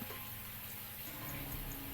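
Tap water running in a bathroom in a steady, even stream, close by and uninterrupted, with no one speaking.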